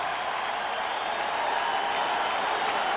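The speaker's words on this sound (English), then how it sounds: "That cheer that you hear is for Deion Sanders coming back in the field." A football stadium crowd in an NFL game between Washington and Dallas cheers and applauds as a player returns to the field, a broad sustained roar heard at a distance.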